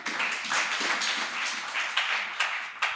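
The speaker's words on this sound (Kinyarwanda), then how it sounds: "mu mukomera amashyi." Audience at a church youth gathering applauding a guest, with dense, steady clapping throughout and a few sharper claps standing out near the end.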